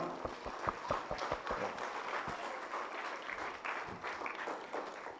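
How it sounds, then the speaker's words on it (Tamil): A church congregation applauds during a Tamil-language sermon, a faint, distant patter of hands with a few more distinct claps early on, continuing softly throughout. "ஒரு தடவை கைத்தட்டி 2 பேருக்கு பாராட்ட சொல்லிடுவோமா?"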